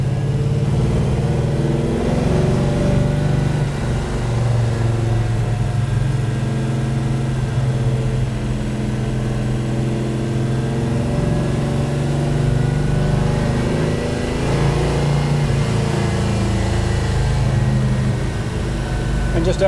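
1966 Beaumont car engine with a 283 crankshaft in a 400 block, running steadily with a low, even hum and faint harmonic drone from inside the car, with a voice talking over it.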